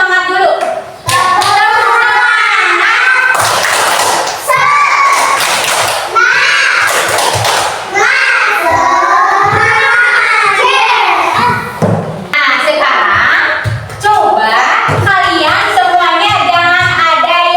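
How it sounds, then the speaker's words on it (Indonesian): Children in a classroom do a rhythmic spirit clap, chanting together with steady, patterned claps and thumps, close and loud throughout. "Coba tepuk semangat dulu."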